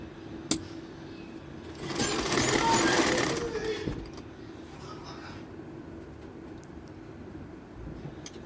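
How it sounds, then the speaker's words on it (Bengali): A sewing machine stitches a chain along the hem of a salwar in one close, steady burst of about a second and a half, with quieter room noise before and after. "তো এই যে আবার উপর দিয়ে সেলাইটা দিয়ে দিব।"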